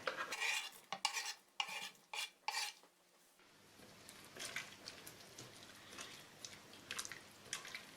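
Beans in a pot being stirred as chopped bell pepper goes in, giving several distinct scraping, clinking strokes of a utensil against the pot over the first three seconds, then a softer wet simmering and occasional stirring sounds, with no talk.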